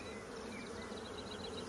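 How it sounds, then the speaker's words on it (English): Honeybees buzz steadily at an open hive where the frames are lifted out around the brood, a close, dense drone with no voices over it. "Look at the amount of bees that have moved across to keep that brood warm."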